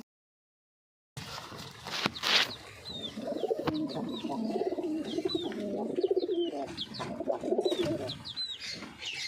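Giribaj pigeons, a Balli powder breed, coo in a steady low murmur close by, with sharper chirps and a few soft footsteps mixed in.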